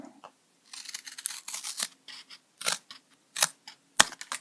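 Close scissor or blade cuts through cardboard, short crunchy rasping bursts separated by brief pauses, loud and near with no talking.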